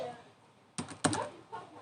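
Someone types on a computer keyboard while coding HTML, CSS and JavaScript: a few close bursts of clattering keystrokes, with short gaps between them.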